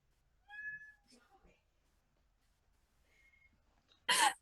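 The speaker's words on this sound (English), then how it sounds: "Did anybody else hear the tiny cat?" A small cat gives a few soft, faint meows amid quiet room sounds, followed by a brief louder burst of noise at the end.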